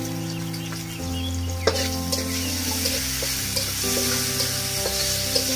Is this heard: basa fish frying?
yes